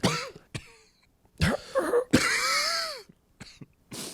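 Several harsh coughs come in short bursts with gaps between, close and fairly loud, one drawn out with a strained, wheezy tail.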